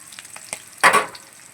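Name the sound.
onions frying in hot oil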